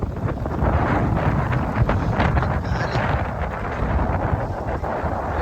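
Strong night wind sweeps across Prakasam Barrage, a steady, heavy rush that buffets the microphone for several seconds with no clear voices.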